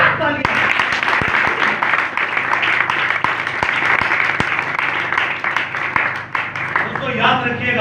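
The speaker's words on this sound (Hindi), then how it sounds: "मेरे यीशु के लिए एक बार जोरदार तालियां।" Pentecostal church congregation clapping loudly, a dense sustained burst of applause with sharp individual claps standing out and voices heard beneath it.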